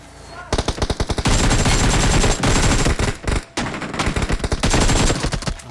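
Rapid automatic gunfire in a shooting video game comes in loud, dense bursts, with brief gaps between volleys and a near-continuous stream of shots in between.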